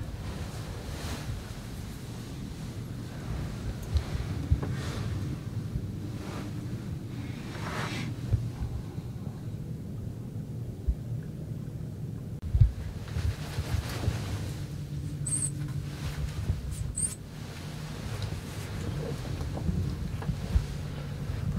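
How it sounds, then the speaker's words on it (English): A north wind blows steadily along a tree line at a late-season Illinois bowhunt, a continuous low rush with gusty swells and a couple of brief high chirps, no talk. "It's like a north wind, like we expected. Straight that way. Right past us. Right down this tree line."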